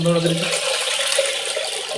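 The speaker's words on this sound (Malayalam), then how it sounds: "മഴ വരുന്ന ശബ്ദം" A rain stick being turned makes a steady hiss of trickling grains, like rain pattering, filling the short clip at an even level with faint voices underneath.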